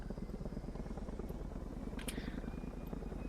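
Twin-rotor Chinook helicopter in the T-1 tactical ops video game, a steady low rotor thrum and engine drone running throughout with faint voice chatter underneath.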